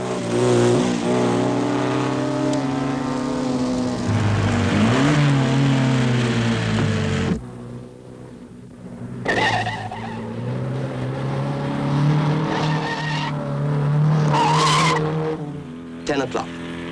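A 1958 Coupe des Alpes rally car driven hard by Ivor Bueb up the Col du Granier, its engine revving loudly and continuously. The pitch rises and falls with gear changes, and tires squeal.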